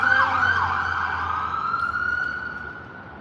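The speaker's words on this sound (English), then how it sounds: "Oh, it's an ambulance." Ambulance siren wailing in traffic, a loud sweeping tone fading gradually as it moves away over steady road noise.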